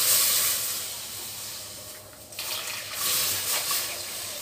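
Full cream milk pours into a thick-bottomed kadhai, a steady hissing, watery stream that rises and falls in loudness over a few seconds, with no talking.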